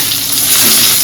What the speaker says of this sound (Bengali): তোমার পোনা মাছটা আস্তে আস্তে করে দিয়ে ভাজতে ভালো করে